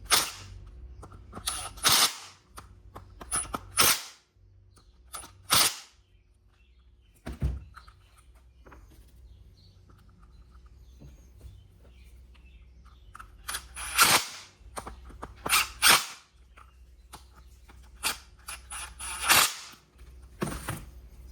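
A Snap-on IM150B impact gun torquing bolts fires several sharp, loud hammering bursts, some short and some longer, with quiet pauses between them, close by.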